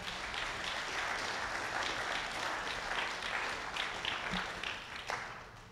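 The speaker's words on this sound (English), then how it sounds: "Somebody give the Lord a hand clap of praise." A church congregation claps hands together in praise, a dense, steady wash of applause that fills the room and tapers off slightly at the end, with no voices over it.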